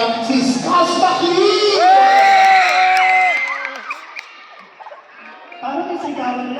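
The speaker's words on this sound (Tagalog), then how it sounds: "Palampakan naman natin si Skastaki!" Loud crowd at a live Filipino game-show event cheering, whooping and shouting over a host's amplified voice, with excited children's shouts and scattered applause rising and then easing toward the end.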